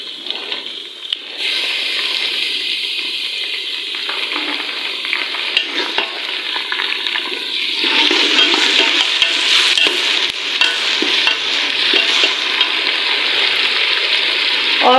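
Freshly made ginger garlic paste frying with onions in a pan, with loud continuous sizzling and the scrape of stirring throughout. The hiss swells louder midway, and no one speaks.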